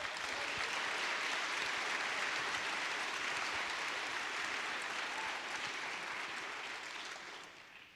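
Sustained audience applause fills the room evenly, a steady dense wash of clapping that holds for several seconds and then begins to fade.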